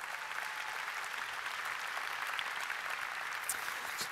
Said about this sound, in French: je propose qu'on applaudisse ces 3 générations,